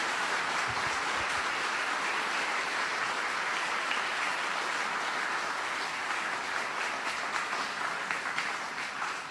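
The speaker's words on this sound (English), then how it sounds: "Can we now give Venerable another round of applause," Sustained audience applause after an English Dharma talk remembering Venerable Master Hsing Yun, a steady wash of many hands clapping together at moderate distance, continuing evenly for several seconds without talk.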